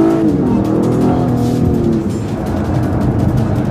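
A 2015 Acura TLX or Volvo S60 T6 sports sedan engine roars as it accelerates hard from a standstill in Sport Plus mode with traction control off, loud and close, its pitch climbing before settling into a steady rumble.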